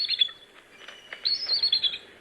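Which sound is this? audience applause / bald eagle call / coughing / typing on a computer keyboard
bald eagle call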